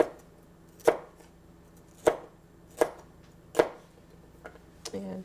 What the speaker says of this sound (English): I'm just going to cut like 1/8 of an inch strips